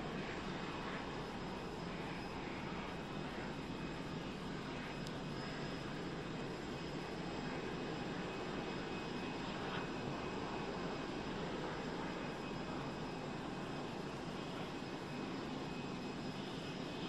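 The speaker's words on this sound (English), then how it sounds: "we can see that the civilian airplanes already pulling in the airport as well" Civilian airplanes taxiing at an airport in China during an official arrival ceremony, a continuous distant engine roar and hum holding steady and moderately faint throughout.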